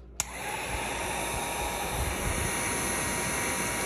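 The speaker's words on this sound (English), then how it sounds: "So we're just gonna use the heat gun on the tops of these." Heat gun blowing steadily over the tops of candles to melt uneven wax, a loud continuous airy roar that starts abruptly after a brief click and holds constant, with no talk.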